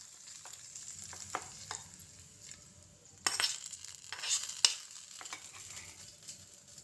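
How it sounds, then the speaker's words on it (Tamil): Fried onion tempering being stirred into peanut chutney, with a soft, steady sizzle and scraping of a spoon against the bowl, plus a few sharp clinks near the middle; close and moderately quiet, no talking. "நம்ம இப்போ சட்னியில் ஆட் பண்ணிக்கலாம் தாளிப்பை"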